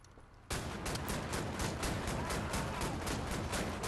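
Rapid gunfire in the shooter Wolfenstein: The New Order, a dense, loud, continuous burst of shots that begins abruptly after a brief quiet lead-in and keeps a steady rattling rhythm to the end.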